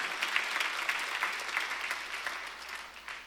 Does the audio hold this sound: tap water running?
no